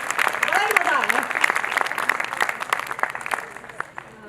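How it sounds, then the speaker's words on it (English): A crowd claps and cheers in sustained applause for performers at an annual function, gradually fading, with a voice speaking over it near the start. "Can we have a huge round of applause for our members who performed so fabulously today?"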